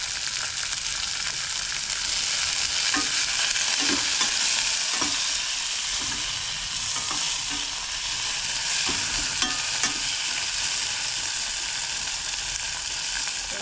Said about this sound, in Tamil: வச்சு தக்காளியும் சேர்த்து வதக்கிப்போம்